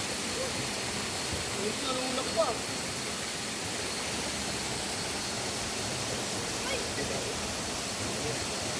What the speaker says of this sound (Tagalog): ngayon ay summer kaya hindi kalakihan yung patak ng falls